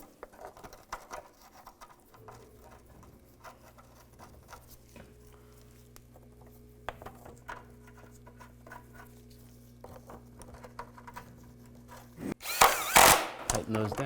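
A power tool tightens bolts on a front CV axle of a 2002-2009 Chevy Trailblazer: a faint, steady motor drone runs for about ten seconds, then a short, loud burst comes near the end.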